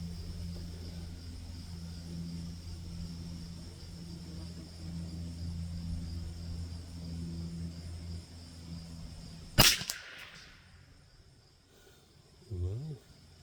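A single sharp shot from a Rock Island TM22 .22lr rifle fired at a 50-yard target cracks out over a steady low droning hum, followed a few seconds later by a brief fainter sound.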